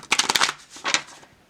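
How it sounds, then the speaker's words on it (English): A small tarot deck of about forty-odd cards being shuffled by hand: a quick run of crisp riffling flutters, a short pause, then a second brief burst that trails off quietly. "Hands are getting wrecked from all the shuffling today."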